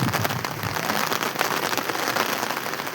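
Heavy rain pours steadily, a dense loud hiss of drops drumming on a surface without pause.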